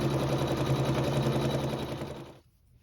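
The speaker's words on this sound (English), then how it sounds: "then sew our tack down" An embroidery machine stitches a tack-down line on quilt fabric, a fast steady mechanical whir and rattle close by that cuts off abruptly near the end.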